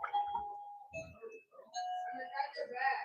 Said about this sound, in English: my doorbell is suddenly going off like crazy